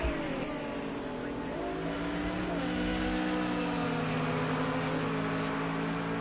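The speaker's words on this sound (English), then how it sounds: "You can hear the whistling of that Nissan GTR." GT3 race cars at Brands Hatch circuit, a Nissan GTR with a whistling turbo note and a Mercedes-AMG with a throaty V8, roar continuously at close range, engine pitch rising and shifting as they accelerate through the gears, with commentary over the top.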